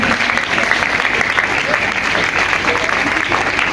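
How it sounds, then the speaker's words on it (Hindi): Audience applause welcoming guests at a Kargil Day tribute event, loud continuous clapping from a large crowd that stays steady throughout, with a faint voice mixed in. "तालियां बंद नहीं होती, तालियां बजती रहती हैं।"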